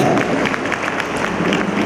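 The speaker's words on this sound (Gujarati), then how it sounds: "તાળી પાડો તો વાંધો નહીં ભલા માણસ" Audience of the Brahmakshatriya community clapping in a hall at a svayamvar gathering, a brief, even wash of moderate applause from many hands with no speech over it.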